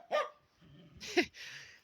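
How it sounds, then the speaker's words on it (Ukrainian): A ginger dog gives two short, close barks, each a sharp yelp followed by a softer trailing whine, with a quiet gap between them. "Ти теж гавкаєш, да?"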